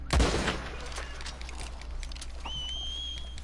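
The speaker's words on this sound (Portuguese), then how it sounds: "Que agora eu atirei." Gunfire in the video game Red Dead Redemption 2: a loud sudden shot bursts out, then fades into a noisy ambient bed with a thin whistling tone near the end.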